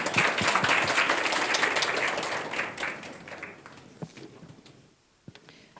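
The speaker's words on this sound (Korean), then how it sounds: "박수로 모시겠습니다." Audience applause at a Korean parents' research institute launch ceremony welcomes a co-representative to the stage, a broad, dense clapping that fades after about three seconds into scattered claps and near silence.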